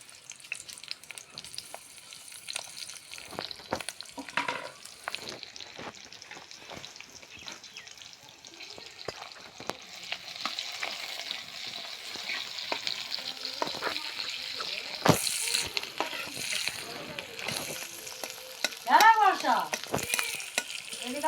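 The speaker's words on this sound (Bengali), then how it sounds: "দেখো মাছটা সুন্দর ভাজা হয়ে গেছে" Fish fries in oil in a kadai with green chillies, a steady close sizzle and crackle with occasional stirring that swells louder toward the end.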